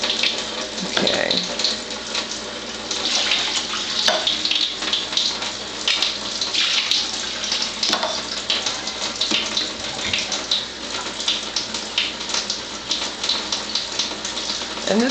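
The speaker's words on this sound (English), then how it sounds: "And this is testing the 2 water ionizers, the Melody and the Tyent, at their level 3 setting." Two water ionizers, a Tyent and a Melody, run water at full flow on a level 3 setting, giving a steady loud gush and splash into a basin with a few small clicks and knocks, continuous throughout.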